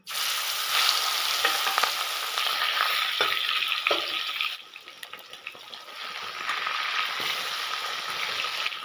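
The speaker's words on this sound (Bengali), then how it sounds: "তেল গরম হয়ে গেছে এখন মাছটা ভেজে নেব" Fish frying in hot oil while taro cooks nearby, a steady loud sizzle with occasional stirring scrapes, dipping briefly midway before resuming.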